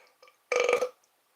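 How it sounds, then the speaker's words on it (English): A single short, loud burp, close and alone, breaks into a playful mock marriage proposal at home, with a few faint soft sounds just before it. "Burping during a proposal."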